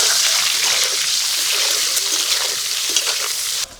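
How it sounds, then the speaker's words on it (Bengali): Eggs fry in hot mustard oil in a wok, giving a steady, loud, continuous sizzle and spatter with crackly bursts throughout, no talking, cut off abruptly at the end. "তেল গরম হয়ে গেছে, ডিমগুলো এবার ভেজে নেবো।"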